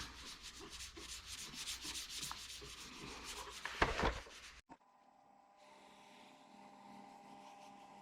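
Paste rubbed by hand across a cured resin pour surface, a steady close scratchy friction for about four and a half seconds, then a sudden stop and a quieter faint hum.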